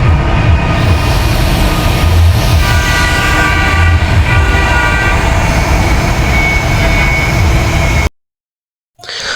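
An electric metro rail train in Uttara, Dhaka, passes close by with a loud, steady rumble and hum plus tonal whine, lasting about eight seconds before cutting to near silence.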